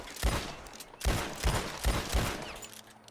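Rifle shots fired through a scope in Red Dead Redemption 2 ring out as five heavy, booming reports spaced about half a second apart, each with a short rumbling tail, loud and close with no voice over them.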